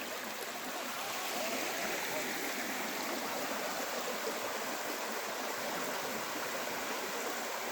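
Drinkable stream water in rural Sakarya flows steadily, a constant broadband rush of moderate loudness with no breaks and no voices.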